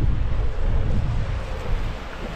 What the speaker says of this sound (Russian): Но очень сильный ветер.